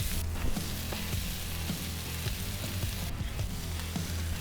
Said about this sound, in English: Get some butter down for the toast.